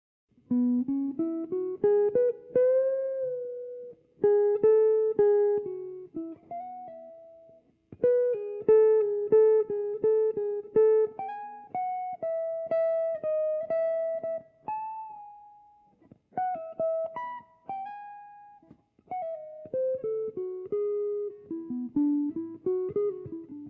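Clean jazz guitar playing a melodic phrase, smooth legato single-note lines in several short passages separated by brief pauses, alone and close.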